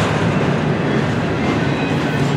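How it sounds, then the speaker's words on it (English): Norfolk Southern freight train led by locomotive NS 9630 rolling off a track switch, a steady, loud, close rumble of wheels and cars with faint rhythmic clatter throughout. "The train is coming off the switch."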